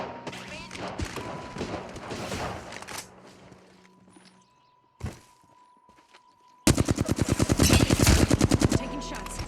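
Rapid automatic gunfire in a first-person shooter video game, a dense burst of loud shots closing out the clip after quieter stretches of game sounds and talk.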